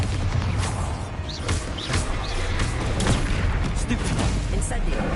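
Bombarda explosion spells in Hogwarts Legacy go off as several sharp blasts with crackling debris over a busy low rumble, mixed with a voice casting spells.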